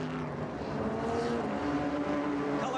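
IMSA GTP race cars roll along the pit lane at Pocono in 1985, engines droning and revving in overlapping tones, a steady mid-distance growl that swells slightly as they pass.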